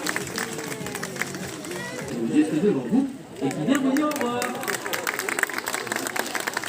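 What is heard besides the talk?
audience applauding at zoo animal show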